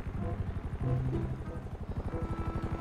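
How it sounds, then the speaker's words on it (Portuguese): A helicopter in a GTA roleplay video game gives a steady, chopping rotor thrum, moderately loud and continuous throughout. "Vai chegar o helicóptero aí, relaxa."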